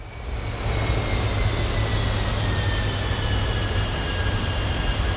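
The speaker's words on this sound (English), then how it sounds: "Remember, we're a 1950s jet engine, so it takes a very long time for that to kick in." A 1950s Avro Vulcan jet engine in Microsoft Flight Simulator gives a steady, loud roar with a low rumble and a faint high whine that drifts slowly downward. It runs continuously and no one speaks over it.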